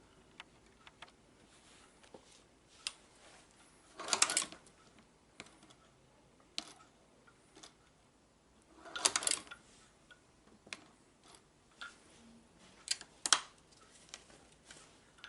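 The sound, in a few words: shoe patcher sewing machine stitching Vans sneakers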